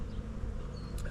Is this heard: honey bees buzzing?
yes